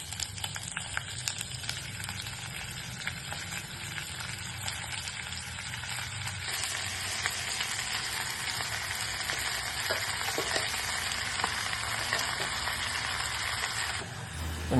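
Shrimp frying in a pan with garlic, a steady crackling sizzle that continues close and even throughout, growing slightly louder and denser partway through, with no talking.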